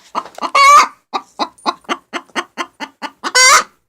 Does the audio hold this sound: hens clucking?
yes